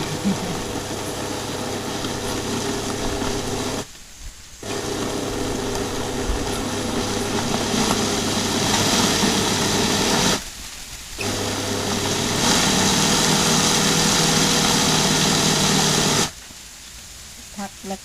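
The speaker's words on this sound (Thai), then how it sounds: "ใช้วิธีการปั่น แล้วก็หยุด ปั่นแล้วก็หยุดเอานะคะ ปั่นจนละเอียดนะคะ" Countertop blender whirring a health drink in pulses, loud steady motor bursts of several seconds each cut by short pauses, the on-off pattern repeating three times.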